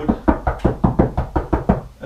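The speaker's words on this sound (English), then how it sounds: "I knock on the wood" Knuckles rap on a pine tongue-and-groove wood wall in a steady series of about eight close, hollow knocks, roughly four per second, sounding out for a stud.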